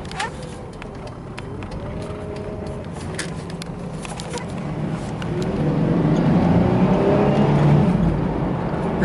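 A Chevy Astro minivan accelerates hard, its engine note climbing and growing louder over the last few seconds after a steady rolling drone, heard from inside the cabin.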